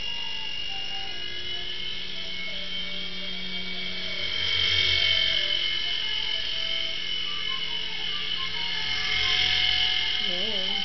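A small RC helicopter's electric motor and rotor whine steadily, swelling louder twice as it lifts off and flies nearby, with a low battery; a person talks over it.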